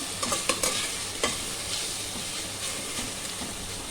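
Onions for a vegetable biryani sizzle loudly in a hot pan, a dense hiss broken by a few sharp stirring clicks early on, close and continuous with no talking.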